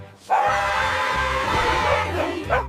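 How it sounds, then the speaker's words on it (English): A group of cartoon puppies barks together in a loud, overlapping chorus of yips and woofs close up, sustained for a couple of seconds. "One last group bark for a great day,"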